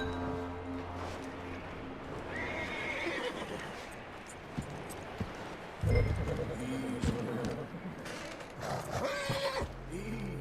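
A horse in the video game Red Dead Redemption 2 neighs and whinnies several times, with clip-clop hooves, a heavy thud and game ambience, close and fairly loud, under occasional voices.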